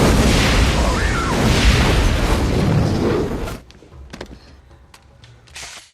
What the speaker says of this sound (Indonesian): lalu saat Chris hendak mengecek mobilnya yang meledak